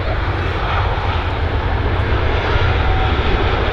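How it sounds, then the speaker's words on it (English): A TUI Boeing 737-800 airliner arriving at Manchester Airport, inbound from Palma, Mallorca, gives a loud, steady jet roar that fills the whole stretch, with no talking. "This is our TUI 737-800, this time inbound from Palma,"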